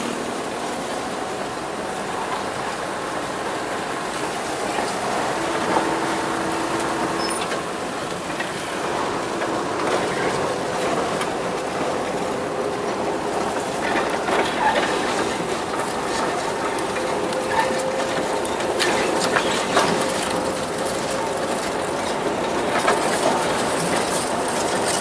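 A locomotive at the Semboro sugar mill rolls over a level crossing covered with gravel, a continuous rumbling, clattering roll of wheels on rails heard close by for the whole stretch.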